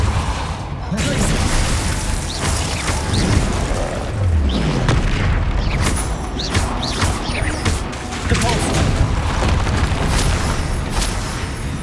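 Fire-blast spell explosions in Hogwarts Legacy, with heavy booms and crashes layered over dense, loud, continuous combat noise and whooshes.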